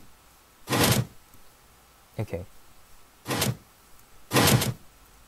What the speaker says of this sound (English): the door opens with a piston sound effect.